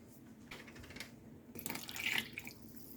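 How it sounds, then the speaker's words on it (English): Hot water from a small kettle is poured into a chocolate cake batter of buttermilk in a kitchen, a faint, soft splash and trickle lasting about a second over quiet room noise. "Now I need 1 cup of hot water, which I heated back here in my little kettle."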